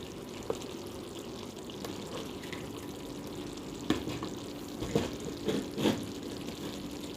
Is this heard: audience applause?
no